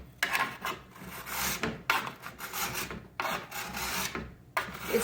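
A metal file rasps along the steel edge of a Lenz skibike ski in four or five separate strokes, each a loud scraping pass with short gaps between them.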